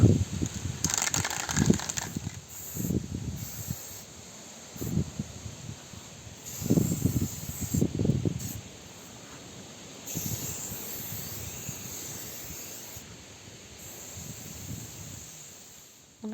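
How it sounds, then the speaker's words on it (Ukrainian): Aerosol spray paint hissing onto a bar stool, with short bursts of spray separated by pauses, close and moderately loud. "Це вже чоловік буде фарбувати другий стілець."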